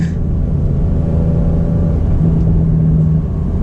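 A 2021 Porsche 992 Turbo accelerates hard, a loud, steady engine roar and low rumble heard from inside the car, with a sustained droning tone and no talking.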